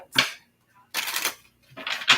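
Tarot cards are shuffled in three brisk, close riffling bursts separated by short pauses, crisp and papery with no talk over them.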